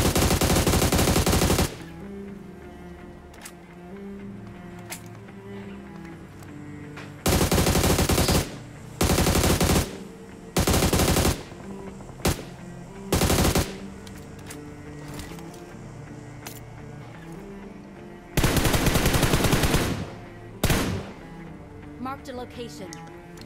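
Video game gunfire in a battle royale match, with several loud bursts of rapid automatic fire broken up by quieter gaps of game sound, and someone talking between the bursts.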